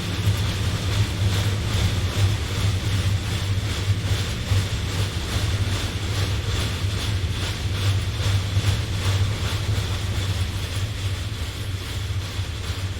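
A train runs on the Arosa Line in the game Train Sim World 2, giving a steady low rumble with a rhythmic clatter of wheels over rail joints. The sound is continuous and fairly close throughout.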